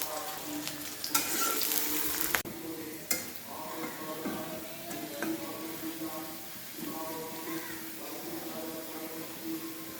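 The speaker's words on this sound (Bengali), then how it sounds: "এই যে রসুনটা আমার ভাজা হয়ে গেছে" Chopped garlic and onion sizzle in hot oil close by while a spatula stirs and scrapes the pan, with a few sharp clatters of utensils.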